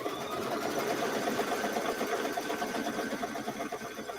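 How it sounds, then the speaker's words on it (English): An embroidery machine stitches a placement line for lettering on a jolly wall hanging, running as a steady, fast, even needle rhythm that holds at constant loudness throughout. "It's going to stitch the placement line for the L and the Y."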